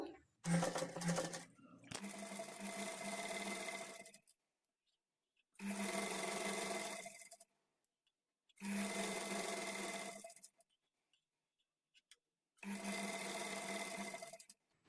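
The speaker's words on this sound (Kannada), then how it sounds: "ಆದಷ್ಟು ಎಡ್ಜಿಗೆ ಸ್ಟಿಚ್ ಬೀಳೋ ಥರ ಸ್ಟಿಚ್ ಮಾಡಿಕೊಳ್ಬೇಕು" A sewing machine stitches fabric edges for invisible piping, running in four bursts of roughly two seconds each with silent pauses between, loud and close, with a brief rattle of handling at the start.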